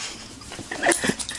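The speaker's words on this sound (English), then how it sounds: "It's a very fussy dog." A fussy dog whimpers and yips close by, with short high whines building in the middle and a soft breathy catch toward the end.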